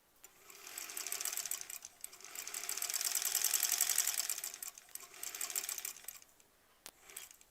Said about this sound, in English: It's still sewing.